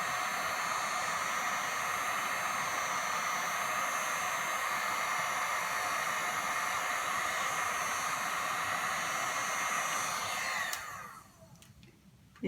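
A heat tool blows a steady, close, airy roar while melting UTEE embossing powder over a leaf, then cuts off near the end, leaving faint clicks.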